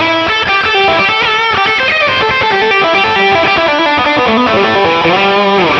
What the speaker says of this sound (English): The tube screamer is already engaged, and I have reverb on